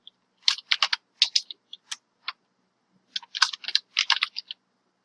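Fast typing on a computer keyboard while admin details are entered, crisp close key clicks in two quick bursts separated by a short pause, in a quiet room.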